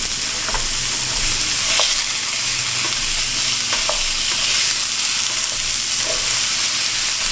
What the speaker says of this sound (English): Let's break this meat up.